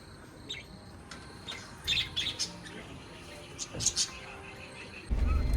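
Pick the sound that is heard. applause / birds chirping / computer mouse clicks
birds chirping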